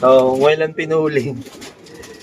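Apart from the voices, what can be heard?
racing pigeon cooing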